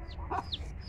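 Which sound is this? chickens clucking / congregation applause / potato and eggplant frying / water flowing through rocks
chickens clucking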